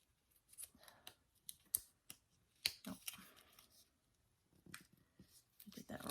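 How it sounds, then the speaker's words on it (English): Scissors cut paper dots for a Cricut 3D Christmas gnome ornament with a series of sharp, close snips at an irregular pace, quiet in between. "I'm going to have to cut some of these dots"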